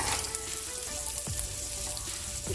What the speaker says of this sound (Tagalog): So just keep on mixing everything in this pan.